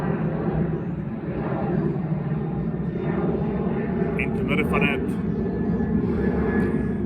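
Airplane droning overhead in a steady, loud, continuous roar that persists throughout, while a person speaks Afrikaans in a calm voice over it.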